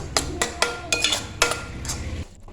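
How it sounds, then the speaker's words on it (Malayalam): A spoon stirs chili powder in a cooking pan, scraping and clinking against the metal in about six quick, close strokes before trailing off, with no talk. "നന്നായിട്ടൊന്ന് ഇളക്കി കൊടുക്കുക"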